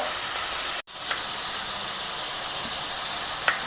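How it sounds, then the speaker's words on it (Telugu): Pieces of ridge gourd cook in a little oil in a pan, making a steady, close sizzling hiss that cuts out for a moment near the start and then carries on unbroken, with no voices. "బీరకాయ ముక్కలు ఇలా కొద్దిగా నూనెలో మగ్గనిద్దాము"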